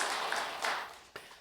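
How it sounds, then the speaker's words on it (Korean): Church congregation applauding together, a dense broadband wash of clapping that swells early, holds steady, then fades out near the end with a last brief burst. "우리 시온 위에서 다시 한번 큰 박수를 한번 올려드리겠습니다"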